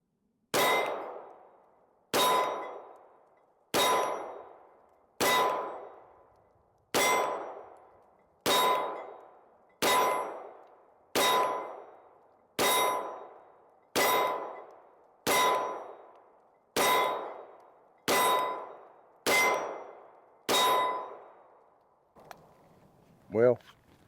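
Pistol rounds strike a steel target in a steady series of about fifteen sharp metallic clangs, each ringing out briefly before the next, heard from a distance with no talk over them.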